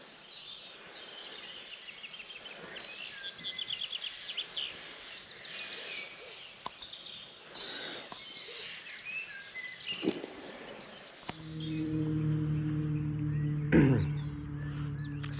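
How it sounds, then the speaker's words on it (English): Birds sing and call through the evening air at a Dartmoor campsite, bright chirps and warbling phrases layered at mid distance, before a louder low rumbling noise takes over near the end. "I do hope you can hear the birds singing."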